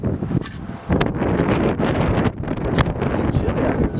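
Wind gusts hard across an outdoor cookout on a chilly day, roaring and buffeting the microphone almost without pause, loud and close.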